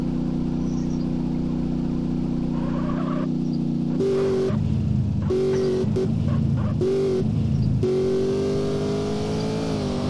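A stolen car's engine revs hard and accelerates in stepped bursts, loud and close, with repeated rising whines as it shifts through gears.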